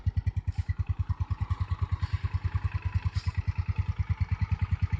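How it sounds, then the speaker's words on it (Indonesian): A small 2007 Mio Soul motor scooter engine idles steadily up close, its exhaust putting out a fast, even low putter that continues throughout without any talking. "Ini suara mesinnya, suara knalpotnya."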